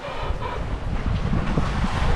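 Steady wind buffeting the microphone aboard a boat crossing the Atlantic, a low rumbling roar with gusts and no voices.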